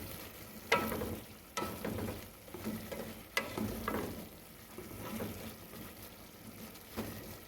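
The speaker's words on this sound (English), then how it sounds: "Give that a little stir." A one pot meal frying in a pan is stirred now and then, with soft scraping and sizzling bursts over a steady low simmer, fairly close and quiet, and no talk.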